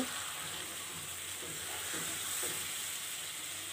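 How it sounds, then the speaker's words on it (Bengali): Meat slow-fried with spices in a pan for kosha gives a steady, close, even sizzle and hiss, with faint soft stirring sounds under it and no talking. "আমি বেশ সময় নিয়ে মাংসটাকে কষাবো, যে পর্যন্ত মাংসের গায়ে থেকে একটা তেল তেল ভাব বের না হবে।"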